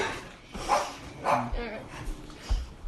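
A dog barking a few times outdoors, mixed in under people talking nearby.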